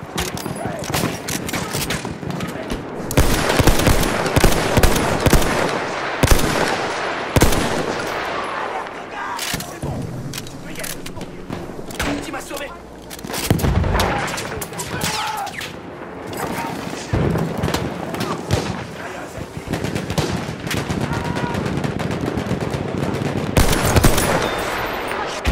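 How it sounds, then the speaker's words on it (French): Enemy machine gun fire in the World War I shooter Battlefield 1, loud bursts of rapid shots with heavy booms and battle noise throughout, a voice speaking now and then over the din. "C'est une mitrailleuse ennemie."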